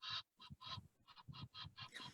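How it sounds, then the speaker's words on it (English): A flock of about a dozen Egyptian geese at a lake gives a run of rhythmic, repeated honking calls in short bursts with brief gaps, fairly faint and distant. "I've got about a dozen Egyptian geese, which were introduced from sub-Saharan Africa about 4 years ago."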